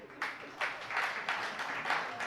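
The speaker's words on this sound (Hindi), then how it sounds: "ओहो, तो भी ताली बजा रहे" Audience clapping at a Jain religious sermon, a steady patter of many hands applauding at moderate distance, continuing throughout without speech.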